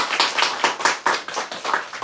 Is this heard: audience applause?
yes